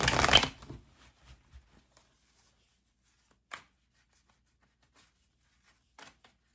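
Tarot cards riffle in one loud burst at the start, followed by a few faint, scattered card taps and slides in otherwise quiet surroundings.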